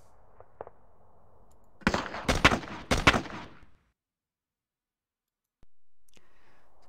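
A short burst of rapid, sharp cracks of gunfire in the strategy war game John Tiller Japan 46, preceded by soft clicks and followed by silence, then a low hum.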